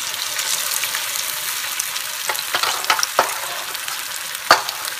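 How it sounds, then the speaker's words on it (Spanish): Meatballs fry in a pan with a steady, close, loud sizzle, broken by a few sharp crackles and stirring scrapes. "Así que yo voy a seguir friendo,"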